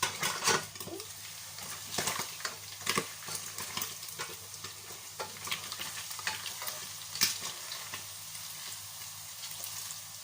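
Salted tilapia fish frying in hot oil in a pan, a steady crackling sizzle with sharper pops and occasional stirring or utensil clatter, fairly faint and heard on its own.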